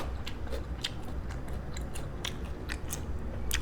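Someone eats grilled octopus close to the mic, with a run of sharp, irregular bites and moist chewing crunches repeating over several seconds and no talk.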